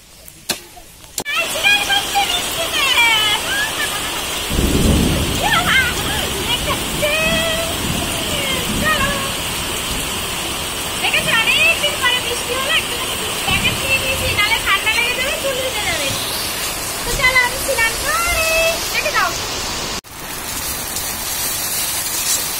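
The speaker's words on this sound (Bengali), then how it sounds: "বাইরে বৃষ্টি হচ্ছে, অঝরে বৃষ্টি হচ্ছে" Heavy rain pours steadily outside a home, a broad continuous wash that runs throughout while a person talks over it.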